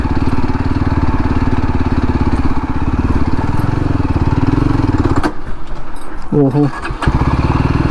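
A Yezdi Adventure 2024 motorcycle engine drones loudly and close while riding off-road over rocky ground, a steady throbbing note that drops away near the end as someone speaks briefly.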